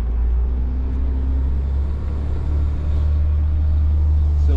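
Inside a 36-foot Class A diesel motorhome on the road, a heavy, steady low engine and road rumble drones continuously, loud and close, with no talk over it.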